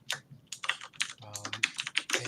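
Rapid clicking of keys on a computer keyboard picked up close by an open microphone during a live online session, a steady run of sharp taps with brief pauses.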